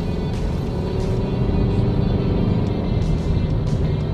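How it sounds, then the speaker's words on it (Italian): An Audi A3 Sportback 2.0 TDI diesel in Sport mode accelerating to overtake on the road, heard from inside as a steady, loud low engine and road rumble with a faint rising drone. "pingiamo sull'acceleratore"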